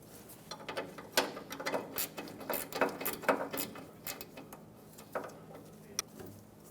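Ratchet tightening a clamp bolt on the brake proportioning valve of a 1995-2004 Toyota Tacoma: close, irregular bursts of quick clicking strokes with short pauses between, then a couple of isolated clicks near the end.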